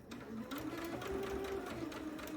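A sewing machine stitches quilt fabric at a seam, running in a steady, close, even mechanical whir with a rapid needle rhythm throughout.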